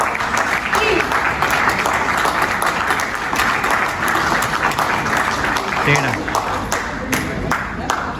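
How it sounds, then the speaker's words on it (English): A crowd at an educational trip award ceremony claps loudly and continuously, a sustained, close, dense round of applause lasting several seconds with some voices mixed in. "a big round of applause"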